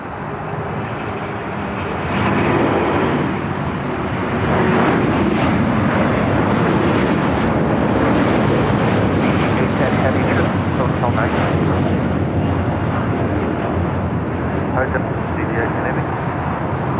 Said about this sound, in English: Flight 5 heading back to Tokyo Narita